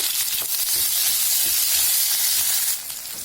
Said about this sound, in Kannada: ಈಗ ಟೊಮೊಟೊ ಕಾಯಿ ಸೇರಿಸ್ಕೊಳ್ಳೋಣ ಎಲ್ಲ ಚೆನ್ನಾಗಿ ಹಸಿ ವಾಸನೆ ಹೋಗೋ ತನಕ ಫ್ರೈ ಮಾಡ್ಕೋಬೇಕು